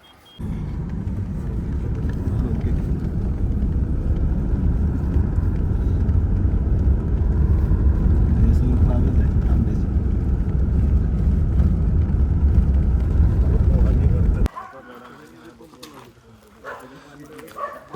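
Steady low engine rumble of a fully loaded car on the move toward a village for about fourteen seconds, then it drops away to quieter interior sounds.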